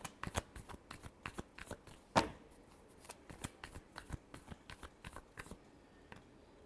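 Tarot cards being shuffled by hand: a run of crisp, rapid riffling flutters and soft slaps, close and fairly quiet, with one sharper snap partway through and no talking.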